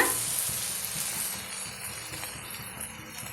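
Egg chicken noodles tossed and stirred in a hot pan at a street-style stall, steady loud sizzling with soft scraping and tossing, no talk.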